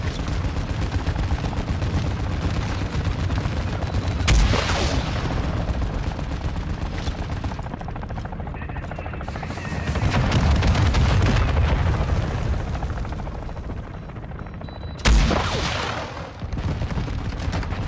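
A boss in Call of Duty DMZ fires missiles that strike with heavy booms while gunfire crackles steadily near and loud, two sharp explosive hits standing out over the continuous shooting.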